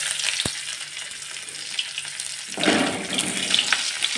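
Nigella seeds and crushed garlic hitting hot oil: a faint hiss early with a sharp click, then a louder, denser sizzle surging up from about midway and holding steady.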